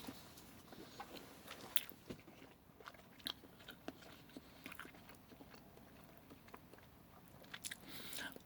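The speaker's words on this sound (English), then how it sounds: "I'm going to try to tilt the camera so you can actually see me eating it" A person eats cheddar cheese flavored ramen noodles from a cup close to the mic, with faint irregular chewing, slurping and small crunches over a quiet room hiss and no clear talking.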